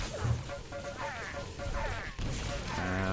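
Plasma gun fire in Quake during a pro league match, a rapid stream of energy shots and impacts layered over busy game noise, with a commentator talking throughout.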